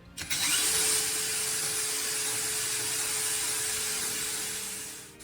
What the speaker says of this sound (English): Move to a piece of wood and continue drilling.